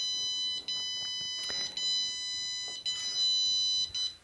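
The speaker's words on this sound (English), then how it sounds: "there it's emitting a tone so that you can find it if you happen to leave your earbud outside of the case" Locating tone from a JBL Tune 230NC earbud left outside its case, a loud, steady electronic beeping in repeated bursts with short gaps, heard close up with no talking.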